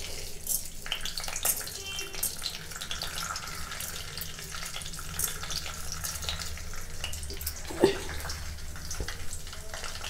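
Urad dal frying in hot oil in a pan, a steady soft sizzle with light stirring noises and one brief clank near the end.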